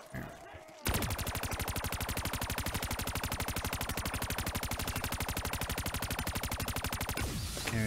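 A sustained, rapid burst of automatic gunfire mows down zombies in a custom zombies video game map, a loud, evenly spaced stream of shots lasting several seconds after a short quieter lead-in.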